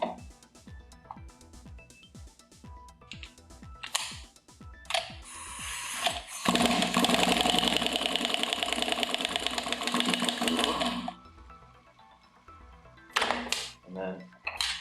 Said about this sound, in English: We'll go ahead and remove it with a 5/8 socket.